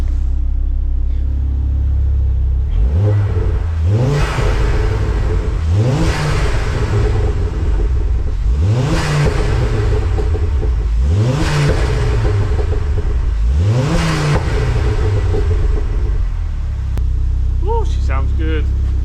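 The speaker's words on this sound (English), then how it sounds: "Let's give her a little tickle and then just double check afterwards." Ford Focus ST race car engine, warmed up, revved repeatedly in five or six rising bursts that fall back to a steady idle between them, loud and close.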